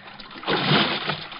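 A man plunges over a rail into an icy river, a short rushing splash of water that swells and fades over about a second, close and without voices.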